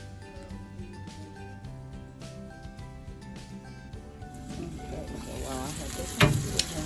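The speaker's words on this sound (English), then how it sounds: "the different sizes of the pieces cooking in the frying pan" Chicken pieces of different thicknesses frying in a pan for chicken parmesan, a steady sizzle under background music that grows louder and crackles near the end.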